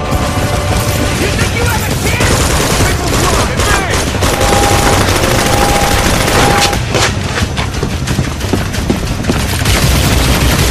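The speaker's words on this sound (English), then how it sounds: "There's a machine gun turret up on that outpost over there." Dense, relentless bursts of machine gun fire from a turret on an outpost fill the whole stretch, loud and close, with crashes and booms mixed into the chaotic combat of the game First-Person Project: The Uprising.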